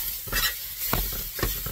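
Ham hash fries in a pan while being stirred, a steady sizzle broken by three or four rhythmic scraping strokes of a utensil, close and without talk.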